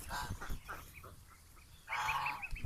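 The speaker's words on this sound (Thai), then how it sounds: "อันนี้เป็นเป็ด กาคีแคมเบลนะคะ" A flock of about 97 Khaki Campbell ducklings, 25 days old, makes soft, close quacking and peeping calls, scattered at first and then rising into a denser chorus near the end.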